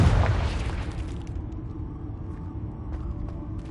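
A single close, loud Confringo blasting-spell explosion in Hogwarts Legacy hits at once, then fades into a long, low rumble with faint game sounds after it.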